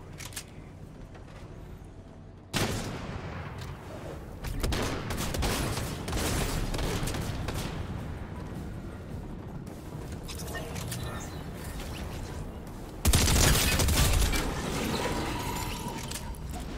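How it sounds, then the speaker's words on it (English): Rapid gunfire bursts during a solo Fortnite match, dense and continuous with louder volleys near the end, mixed with game effects and a voice talking over the action. "Who the hell's shooting at me?"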